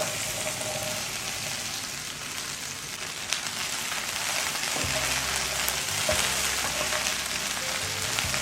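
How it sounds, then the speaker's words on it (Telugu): Chopped okra pieces fry uncovered in a pan with a continuous crackling sizzle, steady and fairly close, with occasional soft stirring. "కాసేపు జిగురంతా పోయే వరకు మూత లేకుండా ఫ్రై చేయాలి"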